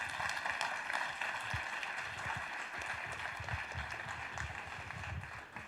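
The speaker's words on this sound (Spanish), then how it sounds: "un aplauso para ellos, por favor." An audience at a Madrid AI talk gives a round of applause, steady scattered clapping from a modest crowd in a hall, moderately distant and unbroken for several seconds.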